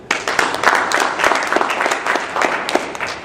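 A crowd at the 2013 Inkwell Awards ceremony claps for the award nominees, a full, continuous round of applause. It rises quickly at the start and holds steady and fairly loud to the end.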